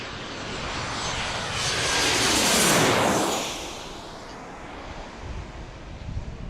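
Alaska Airlines airliner at Washington National Airport, its jet engines swelling to a loud roar as it passes nearby, then fading into a windy rumble.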